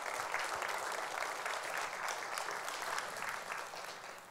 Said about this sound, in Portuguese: Podemos aplaudir o Senhor por essa palavra